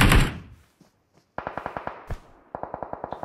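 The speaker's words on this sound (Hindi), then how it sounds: "पीछे से गोलियां" Bursts of automatic gunfire in PUBG Mobile come from behind: a loud opening shot, then two rapid rattling volleys of evenly spaced shots separated by a brief pause, fairly close and with no talking.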